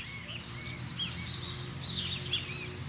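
A coleiro songbird sings in short, high chirping phrases, moderately distant and fairly faint over a steady low background hum, with no talking.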